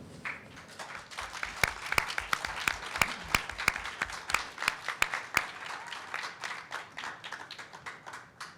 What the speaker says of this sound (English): Can we give another round of applause for our amazing debaters?